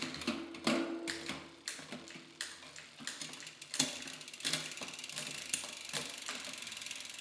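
A Box Prime 9 bicycle drivetrain is tested through its shifter after the shift cable is attached, giving a series of sharp clicks and ratcheting ticks with mechanical rattles, close and fairly loud.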